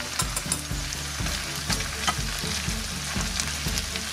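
Polish sausage and onions sauté in a pan, a continuous sizzle with spatula stirs scraping through it at a regular pace, close and moderately loud, no voices.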